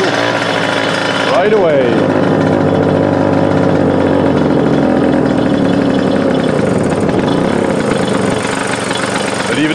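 A Solex 3800 moped engine fires up and settles into a loud, steady, rattling idle close by, with a man's brief speech over it.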